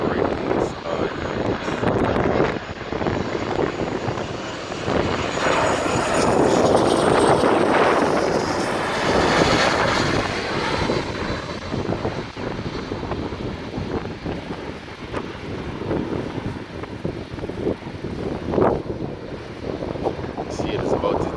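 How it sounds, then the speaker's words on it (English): A JetBlue jet plane landing, heard as a loud, sustained engine roar that swells in the middle and fades, with wind buffeting the microphone throughout and a sharp burst near the end. "as you see, touchdown, and then you have a JetBlue flight about to take flight"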